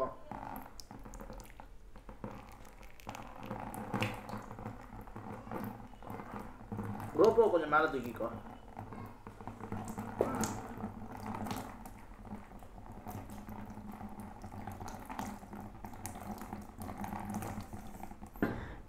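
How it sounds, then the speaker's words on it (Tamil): Water is poured over a GoPro Hero 10 Black action camera, a light splashing trickle under ongoing talk between two people. "இந்த தண்ணி எடுத்துகிட்டு இதில் ஊற்றினோம்னா தெரியும்"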